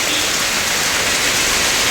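Heavy monsoon rain pouring down in Nalasopara, a dense, loud, unbroken hiss of falling water with no voices over it.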